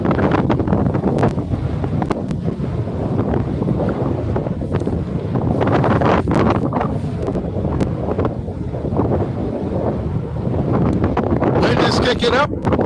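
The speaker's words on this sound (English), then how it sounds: "Wind is kicking up." Strong wind gusting across an open frozen lake during ice fishing, a steady loud roar buffeting the microphone throughout, with a voice talking over it.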